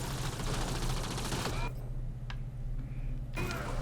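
Rapid homing-weapon gunfire from Mass Effect Andromeda rattles in a fast steady stream, cuts out briefly with a single snap in the gap, then resumes, heard under faint game ambience.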